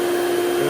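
A Hoover Celebrity QS vacuum cleaner runs on high speed with a loud, steady motor whine and rushing airflow, close by and uninterrupted.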